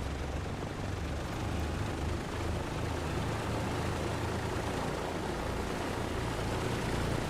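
Douglas DC-3 twin radial piston engines idling steadily at 1000 RPM in Microsoft Flight Simulator 2020, a continuous, even droning rumble with no voices.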